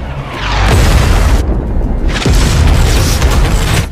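Two heavy explosion booms from an RPG strike in an action film, loud and close, each a deep rumbling blast lasting over a second with a short gap between them.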